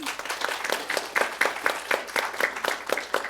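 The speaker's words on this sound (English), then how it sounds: "A round of applause for Nikki." Audience applause at a Wellesley College symposium at the Davis Museum, a moderate round of clapping from a seated crowd with rhythmic peaks, steady and fairly close, no talking over it.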